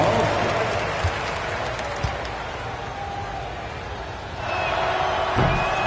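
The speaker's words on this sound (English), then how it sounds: "Give yourself a big round of applause." A large video game crowd claps and murmurs in a steady wash of applause during a basketball game, which swells louder near the end.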